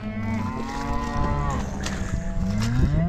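Cows mooing at a cattle farm during calving and breeding season, several long, low moos overlapping one another, fairly close and loud, with other bovine calls joining in near the end.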